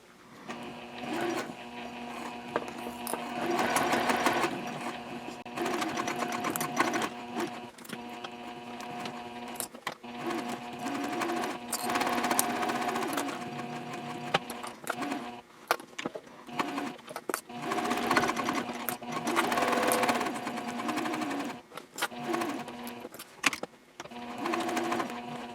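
A sewing machine bastes fabric for a Hannah Sling bag with a 3.0 stitch length, an eighth of an inch from the edge. The close, rapid mechanical stitching comes in bursts separated by short pauses.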